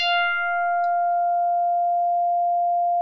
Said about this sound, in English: It morphs down to a sine wave.